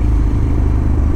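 A KTM 1290 Adventure S motorcycle engine runs with a dense, steady low rumble, close and loud, with no voices over it.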